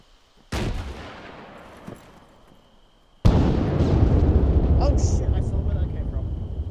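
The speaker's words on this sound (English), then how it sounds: "that's just friendly shooting with it" Friendly gunfire in the ARMA 3 video game: a sharp shot with a decaying tail, then a second louder burst that swells into sustained rumbling fire and blasts. Nearby and loud.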